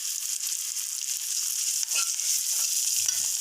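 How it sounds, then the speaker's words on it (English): Moringa leaves and boiled white rice fry together in a hot pan over high flame, giving a steady continuous sizzle with occasional stirring scrapes, close and fairly loud with no talking. "After sauteing the moringa leaves for 1 minute in high flame, you can add the white rice to it"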